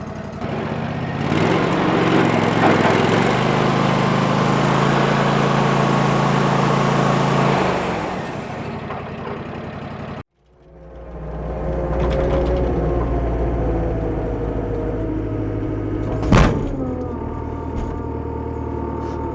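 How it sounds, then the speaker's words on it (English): A sawmill engine roars steadily at full throttle while the blade cuts a log, then cuts out abruptly and resumes with a rougher, grinding drone and a sharp knock near the end. "as soon as you go to engage the blade, that's what it does. It sets the engine to full throttle"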